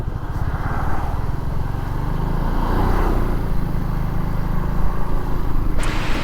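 A BMW C400X scooter being ridden back to the dealer gives a steady, loud engine drone with rushing wind noise throughout, the pitch rising and falling slightly as it cruises.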